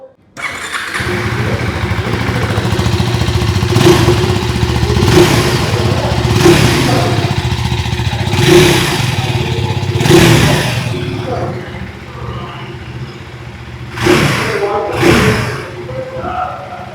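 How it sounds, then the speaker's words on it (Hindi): A 2026 KTM Duke 390 R motorcycle with a 390cc engine idles loudly, its exhaust barking through repeated sharp revs in a steady rhythm, ending with a couple of quick throttle blips. "आइए अभी सुन लेते हैं इस बाइक की एग्जॉस्ट नोट"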